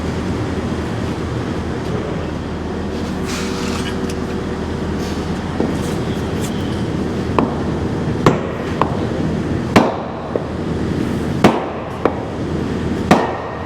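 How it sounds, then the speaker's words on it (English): Sharp hammer blows on a piece of hard wood held against a metal pin on a Hitachi ZX135 excavator ring out one at a time at irregular intervals over a steady background rumble, fairly close and loud. "a bit of wood, a hammer. Get that hard wood, Luke."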